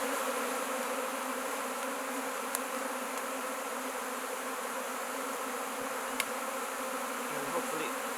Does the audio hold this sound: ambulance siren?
no